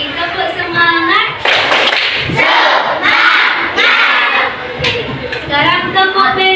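A group of children claps in a rhythmic pattern while chanting together loudly in unison, with an adult voice leading between the claps.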